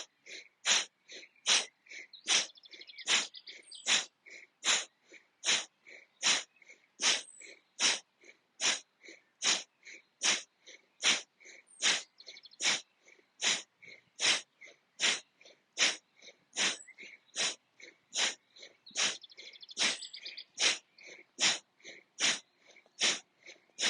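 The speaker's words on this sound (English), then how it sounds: "we're going to do this fast breath of fire" Breath of fire during a yoga session: rapid, rhythmic forceful exhalations through the nose, about one or two per second, close and evenly paced for the whole stretch, with no talking.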